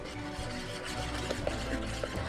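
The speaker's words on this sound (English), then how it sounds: "we're gonna stir in half a teaspoon of vanilla extract. And I'm gonna stir it in." A spoon stirs vanilla extract into a mixture for a cake, soft repeated scraping and light taps against the bowl, close and fairly quiet.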